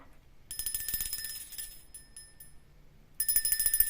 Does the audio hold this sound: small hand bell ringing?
yes